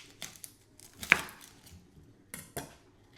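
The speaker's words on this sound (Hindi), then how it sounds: "इसको हमने फ़ाइन चॉप करना है।" Knife chopping a halved onion finely on a board, a few sharp separate cuts with one louder chop near the middle and a short pair near the end, close and quiet with no talk.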